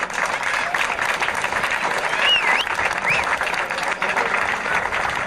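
Audience applause at a gathering of Sarthe football officials, honouring a referee: steady, dense clapping fills the room throughout, with a couple of brief whistles or cheers rising above it.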